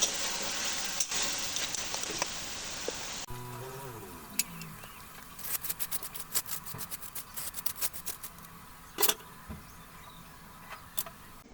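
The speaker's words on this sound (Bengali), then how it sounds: "একটু এলাইচি লবঙ্গ দালচিনি দিয়ে সুন্দর করে নেড়ে চেড়ে একদম ভুনে নেব" Minced beef sizzles with cardamom, cloves and cinnamon as a constant fry hiss at first. Then it quiets, and a run of quick, sharp scrapes and clicks of stirring follows.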